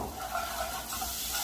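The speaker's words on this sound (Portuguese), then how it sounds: "Refoguei bem aqui o alho e a cebola." Garlic and onion sauté in a hot pan for a chicken sauce, giving a steady soft sizzle and hiss with faint stirring scrapes, close up.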